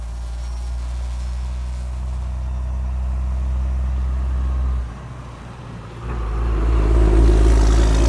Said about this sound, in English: And a big, huge truck goes by.